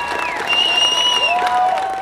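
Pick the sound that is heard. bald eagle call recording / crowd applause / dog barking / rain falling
crowd applause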